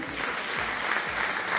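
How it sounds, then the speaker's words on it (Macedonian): Audience at a fashion show honoring women fighting cancer applauding health workers, a brief burst of steady clapping from a crowd. "уште еден аплауз за нив"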